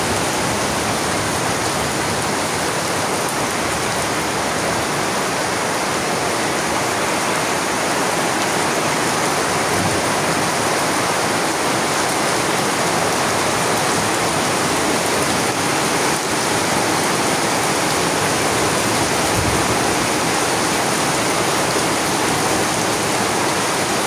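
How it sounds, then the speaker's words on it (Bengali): Heavy rain pours down steadily in a continuous, dense roar, loud and close, with no breaks and no voices over it. "তুমুল বৃষ্টি"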